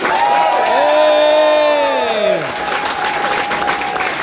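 Warm audience applause and cheering at a live band show at the HiFi Club in Leeds, a loud sustained crowd roar with whoops, while a sung or shouted voice glides over it and fades.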